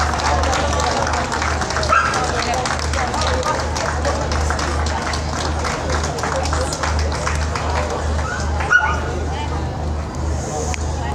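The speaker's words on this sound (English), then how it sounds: "The Australian Shepherd, ladies and gentlemen." An Australian Shepherd barks at the Bath 2021 championship dog show, its yips mixed into steady crowd noise, scattered clapping, a low hum and an announcer talking throughout.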